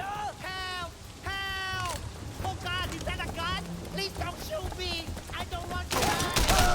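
Gunshots ring out in Sleeping Dogs, scattered sharp bursts mixed with game chatter and character voices, followed by a louder noisy burst at the end.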